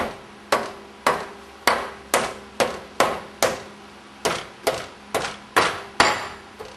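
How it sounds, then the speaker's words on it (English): A rubber mallet tapping to loosen the sump on a Meyer E 47 rebuild, a steady series of about a dozen sharp, close knocks at roughly two per second, each with a brief ringing decay. "So we'll try with the rubber mallet first."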